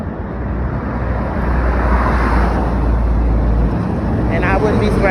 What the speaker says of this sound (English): I think I hear my bus rounding its lazy ass